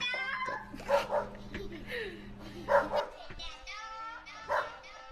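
A dog barks in short bursts, several times across a few seconds, close by, mixed with people talking and background noise during a drone-racing session.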